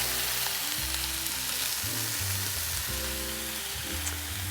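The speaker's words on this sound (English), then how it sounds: "just with the paprika, a little bit sauteing" Chickpea stew ingredients sautéing with paprika in an Instant Pot for a Moroccan recipe, an even, continuous sizzle close by with low steady hum beneath, no one speaking.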